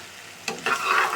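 Beef tripe frying in oil while being stirred: a quiet background sizzle that swells into a louder, steady crackle after a sharp scrape of stirring partway through.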